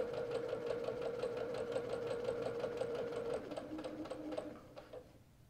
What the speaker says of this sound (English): I'm just going to sew a few stitches past where I began